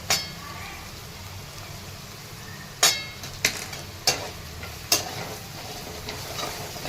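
Turmeric and asafoetida sauté in hot oil for potato sabzi, a faint sizzle under several sharp clinks and scrapes of a spoon against the pan, spaced a second or so apart.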